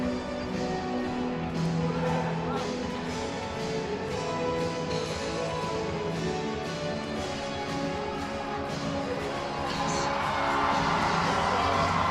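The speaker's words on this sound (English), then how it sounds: "I hear the crowd's really getting into it now" A steady, dense roar of crowd cheering fills a varsity ice hockey rink during a 2015 Newcastle Wildcats versus Northumbria Kings match, holding at an even level throughout without pause.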